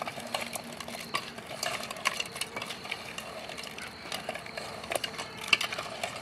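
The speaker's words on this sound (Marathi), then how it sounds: "आता आपण याला एकदम मस्त मसाला लागून घे लागेल असं हलवून घेऊया।" A spoon stirs crabs through masala in a pot, giving repeated scraping and clinking strokes of metal against the pan, close and steady, with no talking over it.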